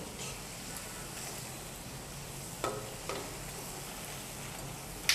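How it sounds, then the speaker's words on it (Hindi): Dahi vada batter balls fry in hot oil in a pan, a soft steady sizzle and crackle at low level, with a few light clicks from a utensil. "इस तरीके से सभी बल्लों को हम गुलाबी गुलाबी सेक लेंगे।"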